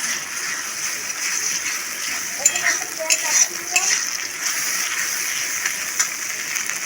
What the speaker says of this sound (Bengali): দিয়ে আমি ভালো করে নেড়ে নেব।